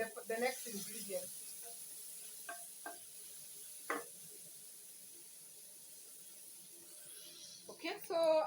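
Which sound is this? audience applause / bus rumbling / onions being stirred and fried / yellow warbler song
onions being stirred and fried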